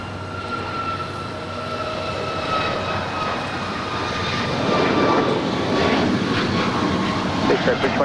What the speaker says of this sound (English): Air Canada Flight 776 heading to Montreal in a 737 MAX 8, now rolling down 25